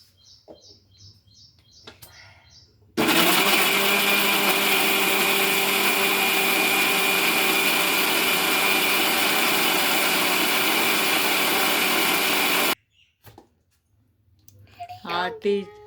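A mixer grinder grinding masala for mutton sambar, a loud steady whirring roar of about ten seconds that starts and stops abruptly, with a voice talking before and after.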